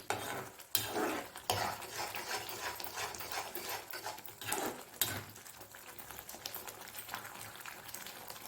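Eggplant sautéing in a pan as turmeric, salt and chili powder are stirred in for a brinjal kosthu side dish. A spoon clatters and scrapes against the metal pan in close, uneven strokes over a low sizzle, with no talking.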